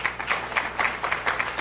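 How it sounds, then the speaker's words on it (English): A small audience claps in a brief burst of applause, uneven rhythmic hand claps heard fairly close and alone without talk. "You're starting to stack some applause."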